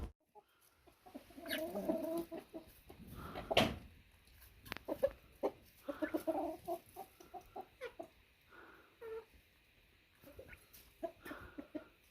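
Mother hens squabbling over rank while their chicks are around, with bursts of agitated clucking and squawks, close and irregular, separated by brief quieter moments and light rustling.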